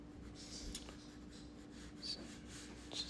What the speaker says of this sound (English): So we're going to kind of draw this out.